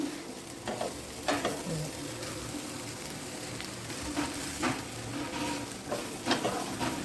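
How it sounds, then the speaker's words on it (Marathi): Soybeans fry in hot oil in a home kitchen pan, giving a continuous sizzle broken by several sharp scraping stirs of a spoon, close and moderately loud. "हे सोयाबीन सोयाबीन ना असं जरा फ्राय करून घेते"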